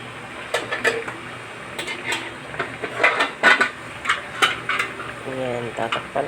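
Metal clatter and scraping of a pot and utensils as a pork dish simmers in Sprite, with a few sharp clanks amid soft bubbling, close and moderately loud.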